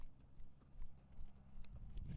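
Hooves of a ridden ranch horse clip-clop in a steady, fairly close rhythm, continuous across the whole stretch with no talking.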